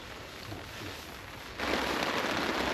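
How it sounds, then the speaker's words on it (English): Heavy rain falls at a campsite during Storm Darragh, a steady broadband hiss that suddenly grows louder and denser partway through and then holds, close and continuous with no talk. "The rain has picked up pretty bad."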